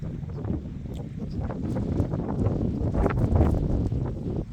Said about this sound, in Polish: I teraz bardzo wieje.